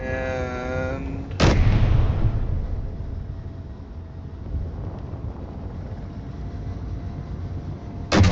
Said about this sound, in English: that's an artillery turret